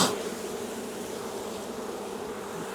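Honey bees buzz continuously inside a glass observation hive during installation of a package colony, a dense, steady, close hum with no talk.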